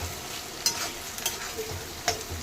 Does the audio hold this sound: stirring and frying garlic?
yes